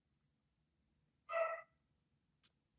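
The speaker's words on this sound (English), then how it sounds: "sure you can hear my dog barking in the background" A dog barks a few times in the background, short bursts spaced apart, fairly faint and distant, with quiet room sound between.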